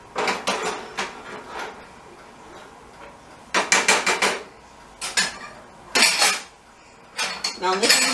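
Serving tongs and a fork clatter against a plate while it is filled with Grecian chicken and Yukon Gold potatoes. Bursts of close, bright clinking and scraping come in separate clusters with quiet gaps between them.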